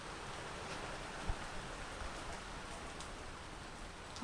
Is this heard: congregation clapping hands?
no